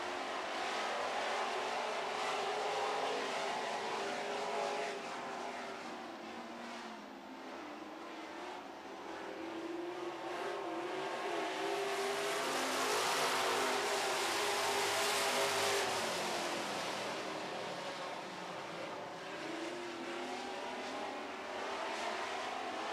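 Ford-powered Super Truck race trucks roar around a track in a heat race, a dense, continuous engine drone that swells and fades as the field passes, steady and loud with no voices.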